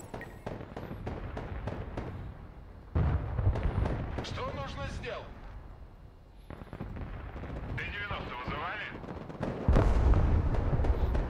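Artillery fire in the Broken Arrow video game, heavy booming blasts rolling in at intervals among scattered sharper cracks, with voices talking over the battle sounds throughout.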